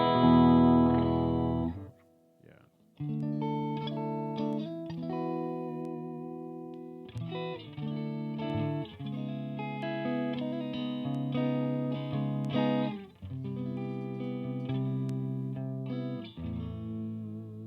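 An electric guitar played through a Lil King amp rings out in chords and sustained notes with a warm, slightly driven tone, close and continuous with brief pauses between phrases.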